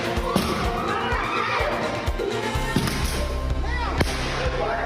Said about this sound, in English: The explosive sounds of fireworks inside a DC library.